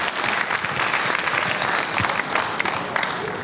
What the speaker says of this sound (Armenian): Եկեք ծափարենք նվագախմբի համար